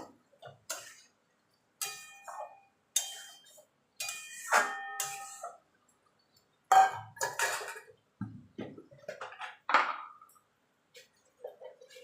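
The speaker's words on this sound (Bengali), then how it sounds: "পটলগুলো ভেজে রেখেছিলাম সেগুলো দিয়ে দেবো দিয়ে ভালো করে মশলার সঙ্গে মিশিয়ে নেব" Fried pointed gourd being stirred into cooked spice masala in a pan gives sparse, separate clinks and scrapes of a utensil against the pan, close and fairly quiet, with short silences between the strokes.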